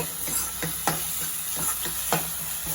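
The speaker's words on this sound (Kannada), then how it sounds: "ಇದನ್ನ ಒಂದು ಎರಡು ಮೂರು ನಿಮಿಷ ಚೆನ್ನಾಗಿ ಫ್ರೈ ಮಾಡಿ" Washed leafy greens frying in a pan for Andhra-style pappu, a constant hissing sizzle with rhythmic spatula stirring strokes recurring every half second or so, close and steady without any voices.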